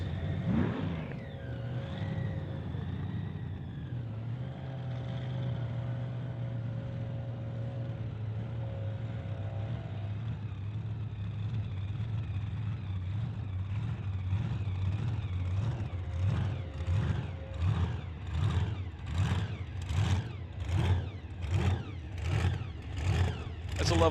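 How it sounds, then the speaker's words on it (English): A big supercharged, blower-driven drag-racing engine in a dragster idles with a deep rumble, then settles into a heavy rhythmic loping pulse that grows louder toward the end. "that loping sound of the blower just sort of rotating that engine"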